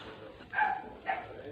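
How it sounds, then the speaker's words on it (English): Dogs bark twice in short, close yips about half a second apart, over quiet background hiss. "Doggies are still barking,"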